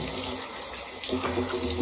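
Water runs from a tap at a sink for washing the face: a continuous, close splashing rush that holds steady throughout.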